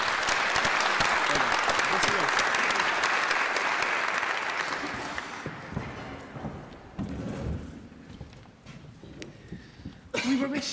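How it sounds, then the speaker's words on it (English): An audience at an agri-food debate semi-final gives a round of applause, loud and sustained for about five seconds, then thinning into scattered claps and a murmuring room with a voice breaking in. "I think we should give him a round of applause, actually,"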